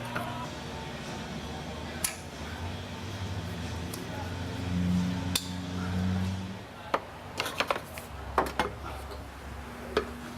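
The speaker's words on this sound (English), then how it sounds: "Using a chisel just in between the yoke and the drive shaft itself, just to make it" A chisel is struck between the drive shaft yoke and the shaft during a transmission removal job. Several sharp metallic taps ring out close by, clustered near the end over a steady low workshop hum.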